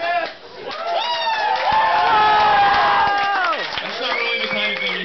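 Comedy club audience at a stand-up show cheering and clapping, a loud crowd swell with whoops and raised voices rising and holding before tapering off.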